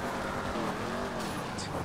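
Car engine in a roleplay video game, a steady revving drone with shifting harmonic tones and a faint tire squeal, continuous and fairly loud.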